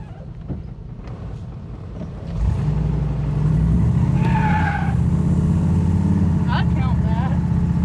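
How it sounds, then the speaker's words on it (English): A Chevy square body truck attempts a burnout, its engine rising into a loud sustained roar with squealing tire chirps on top, close by, with people talking over it. "I'm kind of curious if this truck could do a burnout."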